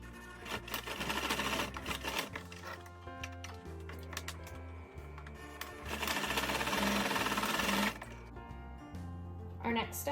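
A sewing machine stitches two pieces of medical cap fabric together, right sides facing, running in steady loud bursts with a short pause and a change of pace partway through.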